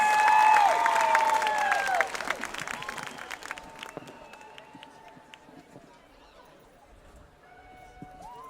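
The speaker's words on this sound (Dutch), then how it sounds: "Groot applaus voor Roel en de band." Audience applause for a band at a night party during the Admiraliteitsdagen 2015 festival, loud and dense at first with sustained tones ringing over it, then thinning and fading to a quieter wash.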